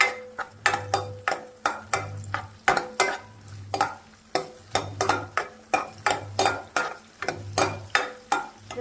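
Onions frying in a pan with garlic and dried red chilli, stirred with a spatula in brisk, regular scraping strokes about twice a second over a continuous close sizzle.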